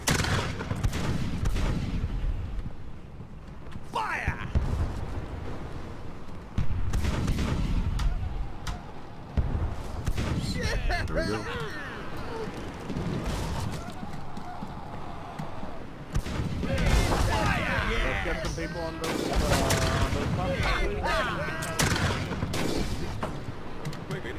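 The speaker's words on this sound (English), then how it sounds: "I am using the nock gun, which is like a shotgun kind of thing." Shotgun-like nock gun blasts and other gunfire in the naval combat game Blackwake, dense repeated booms and cracks over continuous battle noise with a voice talking.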